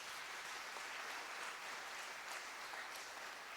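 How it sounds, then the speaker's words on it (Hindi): Soft, steady applause from a church congregation during a Hindi sermon, a continuous wash of hand claps heard at a distance at low level with no talking. "तालियां बजाएं और उसको धन्यवाद दें"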